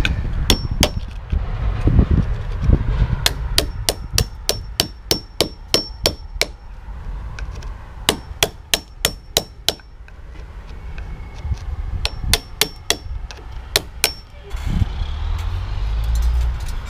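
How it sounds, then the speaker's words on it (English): Steel chisel hammered against a brick wall to chip out bricks during a repair, sharp metallic strikes landing in quick rhythmic bursts of several blows with short pauses between, close and loud over scraping debris. "I just finished chipping away, got those 3 bricks out"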